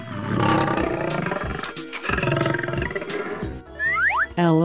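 A video game lion roar sound effect in an animal-guessing game, a loud sustained roar over busy game music, followed by bright jingling chimes and a springy boing at the end.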